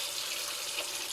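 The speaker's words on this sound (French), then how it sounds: "Donc j'ai fait couler mon robinet." Hot water runs steadily from a household tap into a basin, a constant close hiss and splash with no other sounds.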